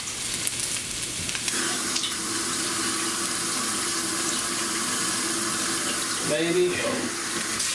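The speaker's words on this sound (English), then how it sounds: "we'll rinse this off" Running tap water pours steadily into a kitchen sink as something is rinsed beneath it, a constant close hiss with splashy changes as the object moves in the stream, and a voice speaks briefly.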